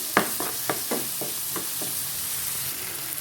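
Fish curry masala sautéing in a pan for a banana fish fry, several sharp spoon strikes in quick succession over a steady background sizzle, then just the even frying hiss.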